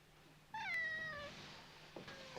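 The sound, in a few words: cat meowing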